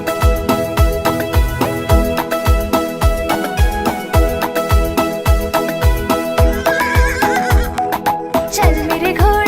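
Horse neighing, rising and falling whinnies that cut in over a lively children's song driven by a steady thumping beat, with the neighs clearest near the end.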